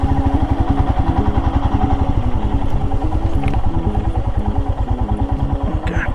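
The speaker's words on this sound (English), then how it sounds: "Let me stop this bike here." A Himalayan motorcycle on a breakfast ride, its engine thumping loud and close in a steady, rapid rhythm as the bike is brought to a stop, with faint rattles on top and no speech.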